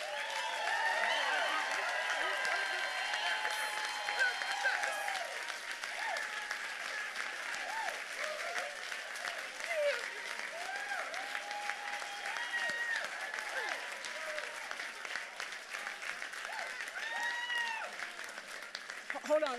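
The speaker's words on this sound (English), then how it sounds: "You all did this clapping and carrying on before I got to the end" Sustained audience applause and clapping fills a 2018 NOW PAC luncheon hall, steady and dense throughout, with crowd voices and cheers mixed into the clapping.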